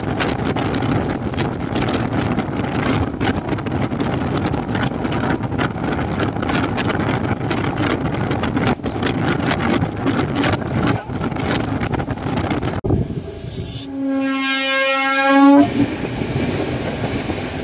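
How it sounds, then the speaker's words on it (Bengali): The Puri Duronto Express rolls along with a loud, steady rumble and wheel clatter, then a long, sustained horn blast sounds near the end. "পুরী দুরন্ত এক্সপ্রেস ছেড়ে দিল তার প্রথম স্টপেজ খড়গপুর জংশন থেকে"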